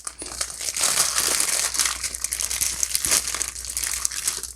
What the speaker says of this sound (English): So they put this in a sealed plastic bag.